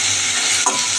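Spices and ginger paste sautéing in a hot pan, an even, fairly loud sizzle with a single short stir or scrape near the end.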